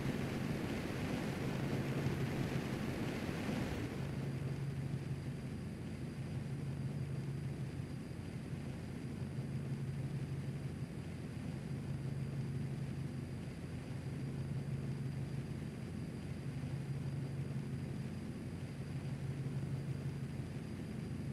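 Spacecraft descending toward a planet in the game Osiris New Dawn: a steady low engine rumble with a soft hum, louder and noisier at first, then settling into an even drone that holds to the end.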